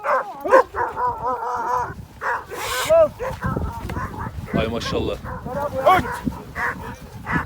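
A dog barks and yips in short bursts amid lively Turkish talk from several people nearby in a village, with the barking partly buried under the voices.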